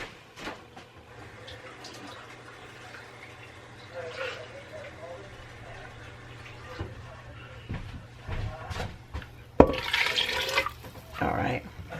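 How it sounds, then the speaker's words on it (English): Water pours and splashes into a pan of hot tomato sauce for albondigas for a couple of seconds near the end, close by, after quieter kitchen clatter and low background hum. "I'm going to add some water to that."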